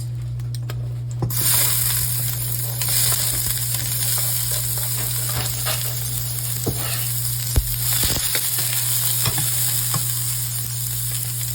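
Onion sizzling and frying in hot olive oil in a pan, a steady loud crackle starting after a brief quiet moment, with occasional stirring clinks and scrapes of a utensil against the pan.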